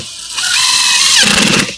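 A power drill drives number 8 screws into a cabinet, its motor whining steadily and loud, then bogging into a rougher grinding note as a countersinking screw head seats near the end.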